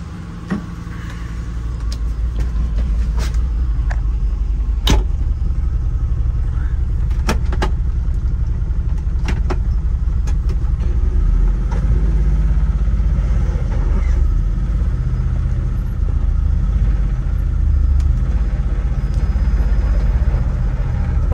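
A 2023 Can-Am Defender Limited UTV idles and rolls out of a garage, its mid-pitched engine running steadily throughout while sharp clicks and knocks, like a door or latch, punctuate the hum.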